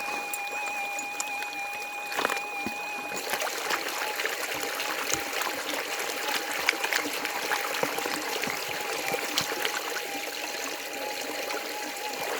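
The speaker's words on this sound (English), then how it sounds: "So, let's pan it." Dirt is swirled and washed in a gold pan while detecting for nuggets in Australia, giving continuous close trickling and sloshing water with scattered splashes and small knocks, and no talking.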